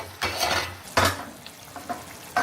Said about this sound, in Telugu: మంచిగా ఫ్రై చేసి నూనెంతా బయటకు వచ్చేటట్టు చేద్దాం.